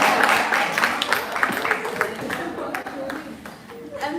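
Applause from an audience at a campaign launch event as a speaker billed as the modern farmer is introduced. The clapping is dense and scattered, strongest at the start, then thins out.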